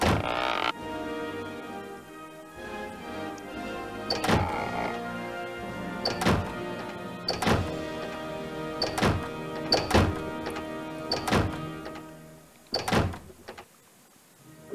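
Drawers opening one after another in the video game Toonstruck, a series of hollow wooden thunks and slides spaced a second or two apart over a soft music bed, fairly close and moderately loud.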